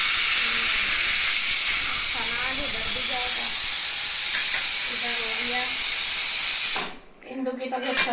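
A pressure cooker holding potato, pea and tomato curry hisses steam in a loud, steady jet while people talk beneath it. The hiss cuts off abruptly near the end, leaving quieter talk.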